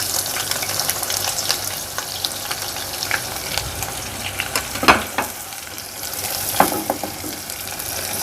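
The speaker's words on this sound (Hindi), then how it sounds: "हम प्याज को उस वक्त तक इसमें फ्राई करेंगे जब तक कि ये कह लें कि हल्की सी सॉफ्ट ना हो जाए" Sliced onions fry with whole spices in hot oil for khara masala keema, giving a steady close sizzle with occasional stirring scrapes and crackles; no talking.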